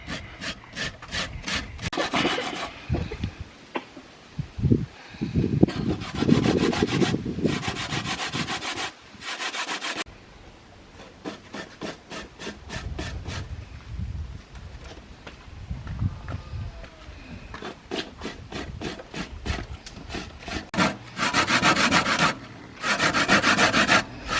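A coconut is grated by hand with a grater in a home kitchen while cooking coconut rice and peas. Rhythmic, rasping scraping strokes come in close, loud bursts separated by brief pauses.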